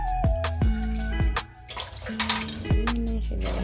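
Food being washed by hand under a running kitchen tap while cooking macaroni pork soup, with steady splashing water and several clattering knocks of a pot or utensils, close by.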